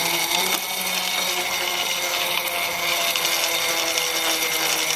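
Freemotion S11.6 exercise bike spun up fast, its 40-plus pound flywheel driven by a bicycle chain giving a loud steady whirring drone with no talking.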